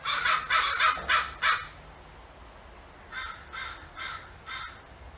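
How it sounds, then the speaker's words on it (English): Crows caw in two clustered series, first four loud harsh calls close by, then after a pause a second run of four or five slightly fainter caws, with nothing else heard. "Crows are skilled communicators, using a variety of calls and caws to convey messages within their groups."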